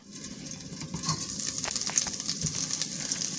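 Chopped onion and green chili sizzle and fry steadily in hot oil in a pan, a continuous crackling hiss with occasional stirring, close and moderately loud with no talking.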